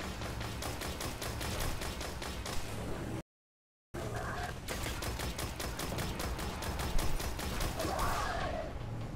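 Automatic weapon fire in the Destiny video game, fast evenly spaced shots in long bursts, broken by a brief total silence and then resuming, with no talking over it.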